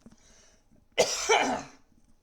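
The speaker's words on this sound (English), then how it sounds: "I gotta cough real quick" A single harsh cough bursts out near the microphone after a second of quiet, rough and breathy, trailing off into room hush.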